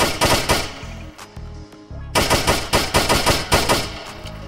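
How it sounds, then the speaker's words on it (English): Rapid gunfire in a Roblox Bronx-style game, loud, dense bursts of shots, briefly thinning in the middle before resuming at full intensity. "Who's that shooting?"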